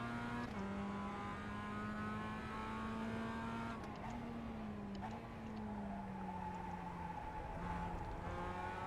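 A Global Mazda MX-5 race car in the iRacing sim, its engine droning steadily and shifting pitch as the throttle comes on out of a corner, a continuous buzzing whine heard alone.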